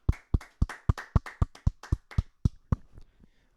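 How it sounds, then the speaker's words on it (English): Hand clapping in a podcast studio, about a dozen sharp, close claps in a steady rhythm that slows and fades out toward the end, with no talking. "round of applause for my boy Mike"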